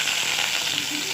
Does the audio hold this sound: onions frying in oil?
yes